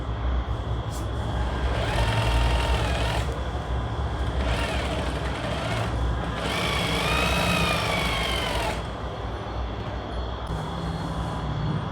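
A sewing machine runs steadily while stitching a blouse, its continuous mechanical hum and whir carrying on throughout with no pauses, fairly loud and close, with no voices over it.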